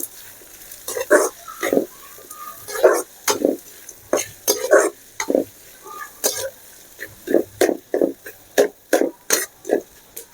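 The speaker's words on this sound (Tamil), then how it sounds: "வெங்காயத்தை நல்லா வதக்கிக்கணும்" Onions are sautéed in a pan for a mutton blood fry, stirred with regular, fairly loud scraping strokes that repeat about twice a second.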